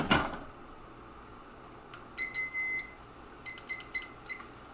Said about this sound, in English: Let's grab one of my kitchen timers.